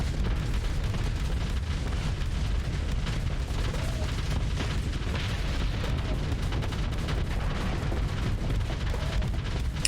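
Starsector battle with massed missiles launching and detonating: a dense, continuous roar of overlapping booms and bursts, loud and unbroken throughout, with no clear gaps between impacts.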